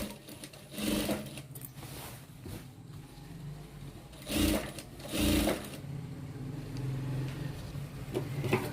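A sewing machine stitches the collar of a Punjabi dress, running in several short, close bursts with brief pauses between them.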